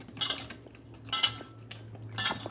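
Chicken leg pieces are stirred with salt in a pan, giving several sharp metallic scrapes and clinks of a utensil against the pan in quick succession, close up and with no voices.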